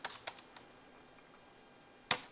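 A few quick clicks are tapped out on a computer keyboard while entering a value in video editing software. A short cluster of soft keystrokes comes first, then a pause, then one sharper final tap.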